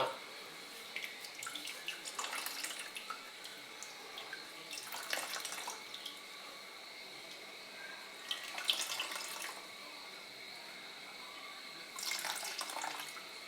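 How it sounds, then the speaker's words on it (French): Freshly pressed coconut milk trickles and splashes as it is filtered, a soft continuous liquid pour with several louder bursts of running flow, faint and close with no clear talk. "Et nous allons filtrer notre lait"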